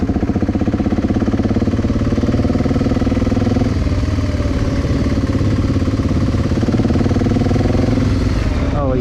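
An adventure motorcycle spins and drifts at an adventure bike festival, its engine roaring loud and close for the whole stretch with a sustained, shifting pitch and a voice in the background.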